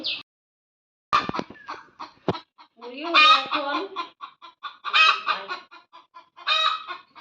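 Several chickens cluck and squawk close by in uneven bursts, with a brief quiet stretch at the start and a few sharp knocks.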